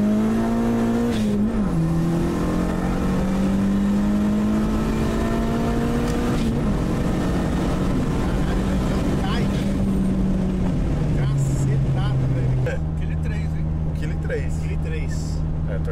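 A turbocharged Honda Civic coupe roaring through hard acceleration on a test run, its loud engine climbing through the gears with brief dips at the shifts, running on wastegate spring pressure without a boost controller.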